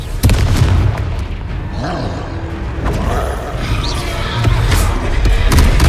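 A dense, roaring blast from the Confringo fire spell in Hogwarts Legacy, sustained and heavy, with low booms and crackling layered over game noise for the full stretch, loud and close.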